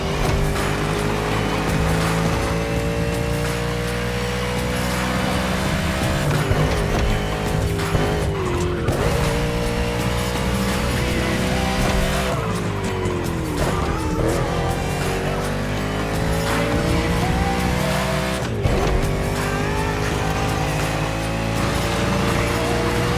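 Race car in The Crew Motorfest video game, a loud continuous engine roar with rising and falling revs, gear shifts and tyre squeal through turns, sustained and up close throughout.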